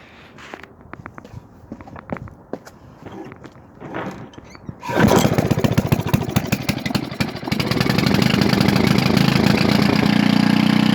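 A Briggs & Stratton 205cc 6hp OHV horizontal engine on full choke is pulled over with faint handling noises, then catches about halfway through and settles into a loud, steady, rapid-firing idle that holds to the end.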